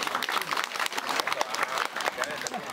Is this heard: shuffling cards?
no